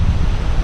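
Wind on the water during kayak fishing near Ocean City, New Jersey, a loud, steady low rumble of buffeting gusts against the microphone, continuous with no talk.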